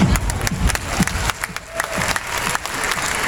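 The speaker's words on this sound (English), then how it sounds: "Let's give a round of applause while I'm getting in the mic." An audience claps at a leadership council gathering, a dense burst of applause with scattered cheers that continues throughout, loud and close.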